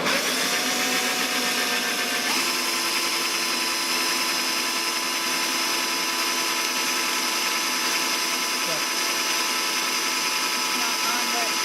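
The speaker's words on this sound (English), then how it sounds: "we are attaching it to our drill to make sure that we're going down straight" An electric drill, guided straight by a square, bores holes for pipe with a steady, loud, continuous whine that shifts pitch slightly early on and runs unbroken to the end.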